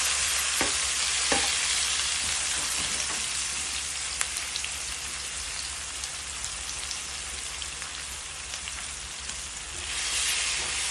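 Chopped onion frying in a pan for a chana and egg curry: a dense, even crackling sizzle like light rain, close and constant, with a few sharp pops and stirring taps throughout.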